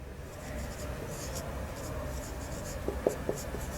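Chalk or marker writes on a board during an Urdu grammar lecture, producing continuous soft scratching and tapping strokes with a few sharper taps near the end, fairly close.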